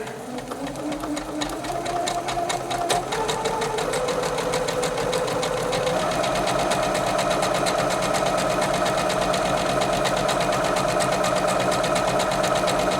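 A Janome 8077 sewing machine runs with the foot pedal pressed, its motor whine rising in steps over the first few seconds and then holding a fast, steady mechanical hum with rapid needle clatter, close and continuous.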